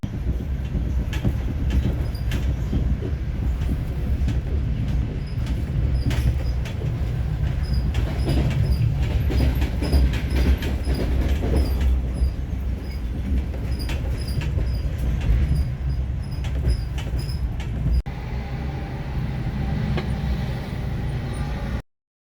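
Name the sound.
non-stop train running from Tashkent to Samarkand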